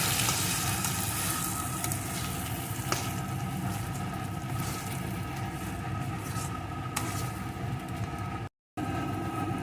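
Steady sizzling and hissing as jackfruit seed dhoka curry fries over medium-low heat while being stirred, a continuous low rush with occasional faint clinks and a brief cut near the end.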